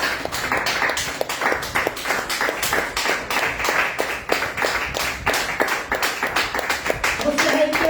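Church congregation claps together in a steady rhythmic beat during a Spanish-language sermon, lively and sustained with some crowd noise beneath.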